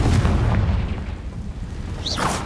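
Spell explosion from the Confringo fire curse in the Hogwarts Legacy video game, a deep rumbling boom that fills the clip with a dense low roar, followed by a brief whooshing crackle near the end.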